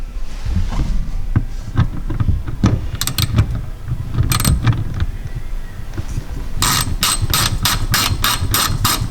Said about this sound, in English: Yes, we're taking the last bolt out now.